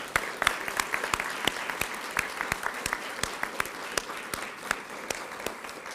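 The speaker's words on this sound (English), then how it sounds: "Round of applause." An audience at a school of journalism and strategic communication writing awards ceremony claps in a moderate round of applause, with crisp, distinct hand claps close by that stay steady before tapering slightly.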